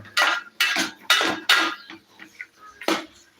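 A spoon stirs beef masala in a metal pot, giving a run of loud scraping and clanking strokes in an uneven rhythm, close and clear with no talk.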